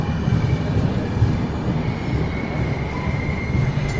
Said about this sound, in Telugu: బరంపురంకి మన ట్రైన్ ప్లాట్ఫామ్ 2కి అయితే వచ్చింది.